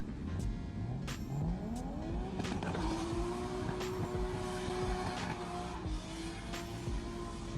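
Car tires squeal sharply as a driver deliberately breaks traction in front of police, a rising, sustained screech that holds for several seconds over engine roar, followed by quieter road noise.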